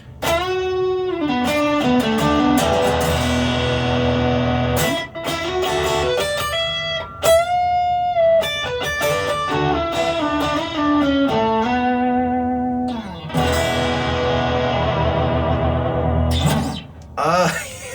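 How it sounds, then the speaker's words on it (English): Heavily distorted electric guitar, a Stratocaster on the neck pickup through a JHS Notadümble pedal, playing loud sustained chords and bends, thick and saturated with echo, continuous for the whole stretch with brief pauses. "I'm just playing my Strat on the net pickup. Let's go to the distortion."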